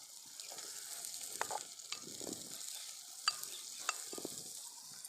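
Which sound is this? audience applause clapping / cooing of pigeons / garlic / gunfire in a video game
garlic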